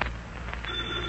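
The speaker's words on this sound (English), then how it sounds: "I think the phone's ringing." A telephone rings in an old-time radio comedy: a steady electronic tone starts about halfway through and holds over a low, hissy background, with no talking.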